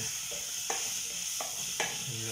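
Tomatoes fry in a pan with a constant bright sizzle, broken by a few soft knocks and scrapes as they are stirred, close and steady throughout.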